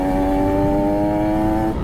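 Bored-up Kawasaki Ninja RR two-stroke motorcycle engine revving steadily under acceleration for about two seconds, a loud, close, sustained buzzing tone with strong harmonics and no voices over it.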